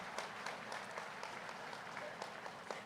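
An audience claps for Patriji at a World Meditation Day gathering, dense steady applause throughout, heard from a distance and fairly faint.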